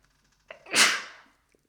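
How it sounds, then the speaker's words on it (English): A single sharp sneeze, a quick intake followed by a loud explosive burst that fades within half a second, close to the microphone in a quiet room. "I apologize, I think I'm going to sneeze"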